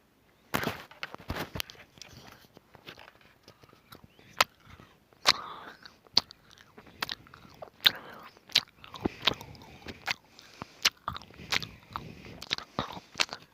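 Chocolate being bitten and chewed up close, a series of sharp crunchy snaps followed by irregular softer crunching and mouth sounds, with no talking.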